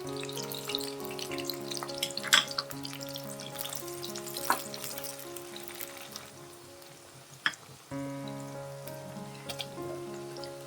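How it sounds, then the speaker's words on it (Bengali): Ground ginger, garlic and dried chili paste fry in hot oil for a country chicken curry. A continuous crackling sizzle carries through, with occasional clinks of stirring and a brief louder burst near the end. "আদা রসুন বাটা আর লঙ্কার বাটাটা একসঙ্গে আমি দিয়ে দিয়েছি, খুব সুন্দর করে এটাকে ভেজে নিচ্ছি।"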